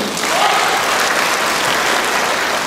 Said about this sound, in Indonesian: kita berikan tepuk tangan buat Bu Erni